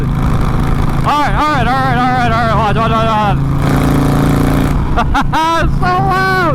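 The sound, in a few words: Harley-Davidson motorcycle with loud exhaust leak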